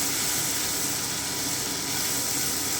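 Ground spice paste sizzles in a pan over low heat while being stirred for curd hilsa, a loud, steady close hiss filling the whole moment without talk.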